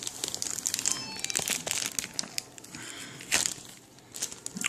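Plastic wrap comes off a Kindle Fire HD 7 tablet with close, loud crinkling and crackling in irregular bursts, pausing briefly before resuming.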